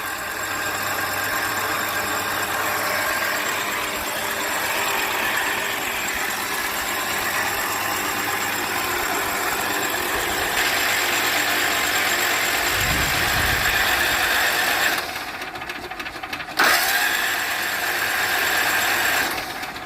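Kohler Command engine running continuously with a steady, loud mechanical drone and some knocking texture; a brief lower surge midway and a short interruption near the end, with no talk.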